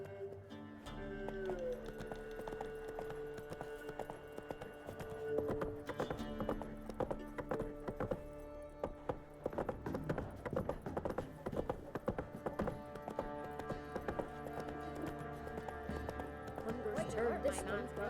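Roach, a horse in The Witcher 3 video game, gallops with steady clip-clop hoofbeats and an occasional whinny over game music and voices, heard in close, continuous rhythm.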